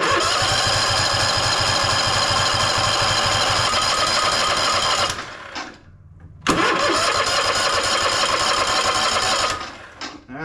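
A Toro Timecutter zero-turn mower engine runs with the choke on: a loud, steady near drone that cuts out around the middle, falls silent for a moment, then catches and roars back before dipping again at the end.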